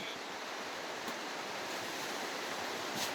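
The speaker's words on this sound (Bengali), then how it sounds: "শুরু হচ্ছে বৃষ্টি।" Steady broadband rush of rain beginning to fall over the hills of Mirinja Valley, Lama, Bandarban, during the monsoon, a continuous, even wash with no distinct drops, alone and moderately loud throughout.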